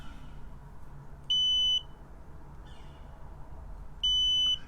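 A multimeter's continuity tester beeps twice during a check on a Mean Well RT-65B power supply, each beep a steady high electronic tone about half a second long, clear over a quiet hum.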